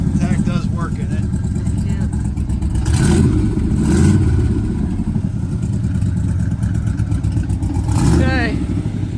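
A 1969 Corvette's engine rumbles steadily with a few sharper throttle bursts, while someone talks over it.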